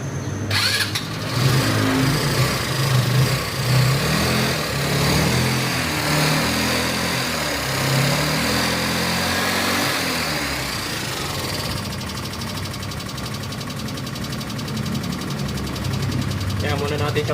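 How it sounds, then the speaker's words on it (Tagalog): A mini Wrangler engine, just started after a carburetor cleaning and fuel change, idles and warms up with a steady, slightly uneven knocking putter, while someone talks over it for much of the time. "Dito habang pinapainit ko yung aking mini Wrangler"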